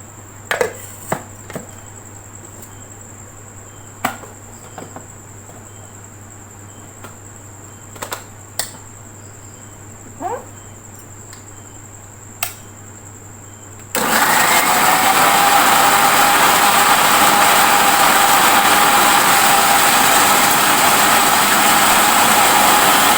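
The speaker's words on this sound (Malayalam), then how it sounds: "ഇത് മിക്സിയിൽ അടിക്കുകയാണ്." Mixer grinder blending ripe mango pulp, starting abruptly after a quiet stretch of scattered taps and knocks, then a loud, steady, high-pitched whirring roar that continues unbroken to the end.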